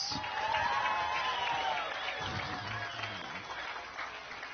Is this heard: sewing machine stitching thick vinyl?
no